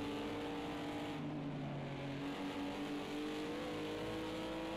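Race cars from the GT3 and LMP1 classes in the Project Cars 2 video game at Daytona roar continuously, with engine tones rising and shifting as the cars run through an endurance race.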